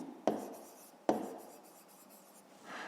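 A pen writes on paper close up, with two sharp taps as the tip meets the page and then soft scratchy strokes in a quiet room.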